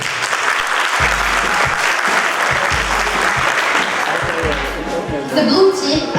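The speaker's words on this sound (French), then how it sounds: "Vos applaudissements, s'il vous plaît," An audience at a biotech hackathon applauds a team with steady, loud clapping throughout, rising briefly near the end, while low thumps sound underneath.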